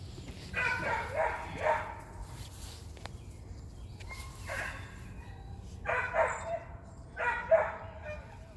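A dog barks outdoors in several short bursts of yips and barks spread across the stretch, moderately near, with quiet gaps between the bursts.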